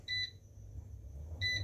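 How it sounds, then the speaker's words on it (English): An air fryer gives two short electronic beeps as it is set to preheat, close and clear, with a quiet gap between them. "I'm going to stick the air fryer on preheat"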